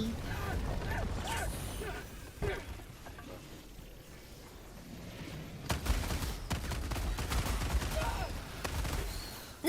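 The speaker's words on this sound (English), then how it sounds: "I hate the stupid artillery!" Artillery barrage in a bug-fighting shooter game, heavy thumps and crackling blasts building in the second half, with gunfire and a gasp mixed in.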